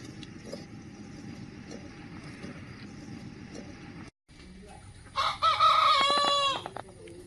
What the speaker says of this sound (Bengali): বাহ, মুরগি!